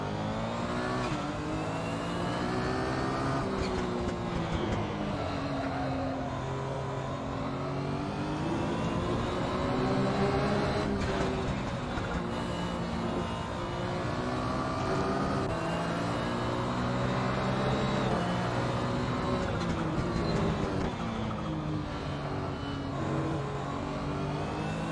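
A Porsche 911 GT1 race car engine in Assetto Corsa revs loudly and continuously, its pitch climbing and dropping through gear changes over a long hot lap, with no voices.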